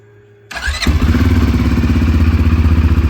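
A CFORCE 500 ATV engine cranks and fires after an oil change, catching at once and settling into a loud, steady, pulsing run close by with no one talking.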